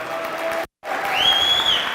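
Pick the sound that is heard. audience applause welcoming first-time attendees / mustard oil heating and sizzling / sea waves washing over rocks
audience applause welcoming first-time attendees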